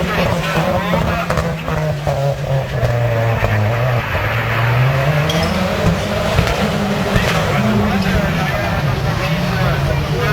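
Rallycross race cars at a July event, engines roaring loud and near with pitch sweeping down and up as they brake and power through, under continuous excited commentary.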